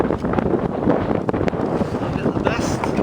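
Strong gusts of wind buffet the microphone outdoors, producing a loud, rough, continuous roar that surges in uneven bursts.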